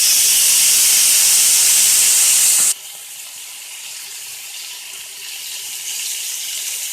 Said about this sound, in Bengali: গরম মশলার গুঁড়ো ফোড়ন দেওয়ার পরে মাছগুলো ঢেলে দিতে হবে।